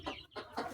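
Native farm hens cluck in three quick, close bursts while their eggs are being collected from the nest.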